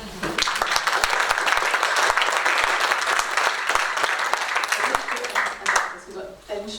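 An audience applauds at a discussion gathering on social bonds in a mutual-aid group, with dense, steady clapping that carries for several seconds, then thins out as voices come in near the end.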